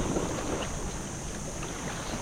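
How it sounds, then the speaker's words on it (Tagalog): Strong northeast monsoon wind blows steadily across open water, a constant dense roar buffeting the microphone with no pauses. "So parang palakas na naman ulit yung amihan guys."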